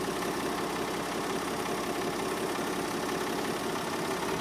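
Ford tractor engine idling in Farming Simulator 22, a steady low mechanical drone with even texture and no change in pitch or level, heard alone without talk.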